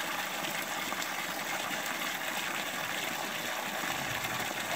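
Water gushes fast and steadily from an overflowing tank, a dense, even rushing wash with no pauses and no talking.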